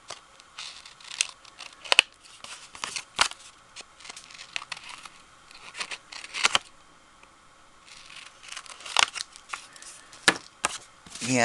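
Scissors snip through a small pink paper piece for a Mother's Day shadow box card, giving a series of short, crisp cuts and light paper crinkles at irregular intervals, close and fairly quiet with no talking.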